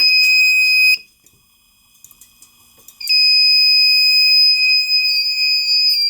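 A loud, piercing fire alarm tone sounds for about a second, stops for a couple of seconds, then resumes and holds steadily.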